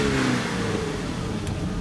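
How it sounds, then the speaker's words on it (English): A Jeep Wrangler engine revs in a short, steady burst, with a mid-pitched drone and a slight rise in pitch, heard from close range. "The engine is incredibly smooth. It sounds good."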